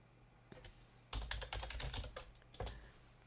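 Typing a square-root formula into a spreadsheet on a computer keyboard, with close clusters of rapid key clicks, a pause, then a final short burst, with no talking.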